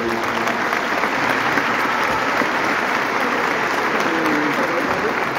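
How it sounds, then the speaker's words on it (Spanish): An audience at a municipal swearing-in ceremony for neighborhood delegates applauds in a dense, steady wave of clapping that holds loud and unbroken the whole time. "Un aplauso, por favor."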